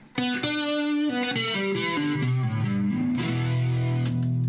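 Distorted electric guitar through a 4140 Club and Country amp model with compression, a drive pedal and Spring 3 reverb plays a descending run of sustained notes, each ringing into a springy reverb tail, then settles on a held chord.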